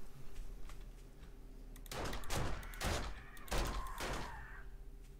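Video game gunfire breaks out after a quiet stretch, several loud bursts of shots clustered over a few seconds, close and harsh, with no talking.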